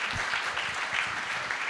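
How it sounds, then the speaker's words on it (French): Applause from an audience greeting a modern pentathlon team at an awards ceremony, a steady spread of clapping with no speech over it. "On peut les applaudir"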